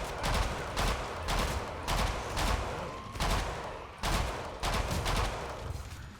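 Rapid bursts of automatic gunfire in the video game Killing Floor 2, loud clustered volleys separated by brief gaps, repeating steadily over several seconds.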